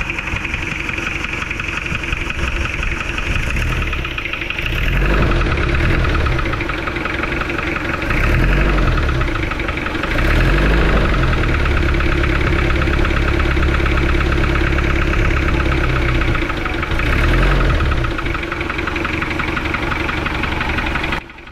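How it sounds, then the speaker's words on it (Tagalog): A Toyota engine with a leaking water jacket idles loudly and roughly, a close, continuous clattering knock with periodic heavier surges throughout. "sobrang lagatak ng andar ng kanyang makina"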